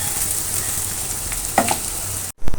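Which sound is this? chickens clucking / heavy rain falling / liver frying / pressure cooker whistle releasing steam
liver frying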